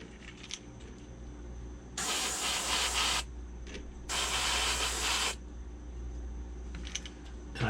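Two heavy bursts of spray paint on a pumpkin craft project, each lasting just over a second with a pause between, loud and close over a low steady background hum.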